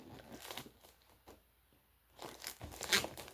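Plastic blind bag packaging for a Disney figure crinkles and tears in rustling bursts close up as it is opened by hand, with a louder rip near the end.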